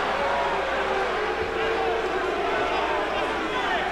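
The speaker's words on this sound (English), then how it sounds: "Crowd beginning to get restless." Restless crowd murmur fills an arena during a 1986 Mike Tyson boxing match, a steady, dense wash of many voices at moderate level with no clear peaks.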